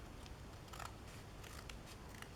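Scissors cutting fabric for an appliqué flower design, a few quick, faint snips and crisp rustles over a low room hiss, close by.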